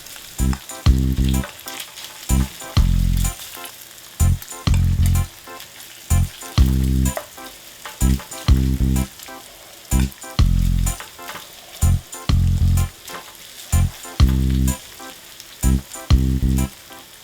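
Bacon and thinly spread potatoes fry in a single pan, a steady close sizzle with repeated louder scraping and stirring bursts in an uneven rhythm, and no one speaking.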